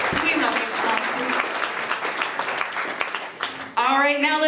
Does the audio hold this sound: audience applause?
yes